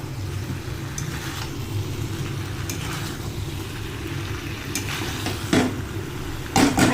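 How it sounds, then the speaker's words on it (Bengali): Eggplant pieces sautéing with potato, pumpkin, flat beans and pointed gourd in a pan, a soft, low sizzle with occasional scraping and clinks of a spatula, a couple louder knocks near the end. "এবার বেগুনগুলো সিদ্ধ হয়ে যাওয়া পর্যন্ত কষাতে হবে।"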